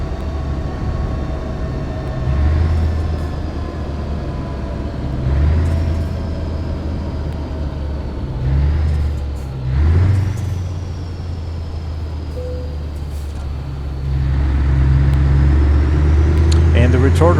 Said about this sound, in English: So now you can hear the retarder.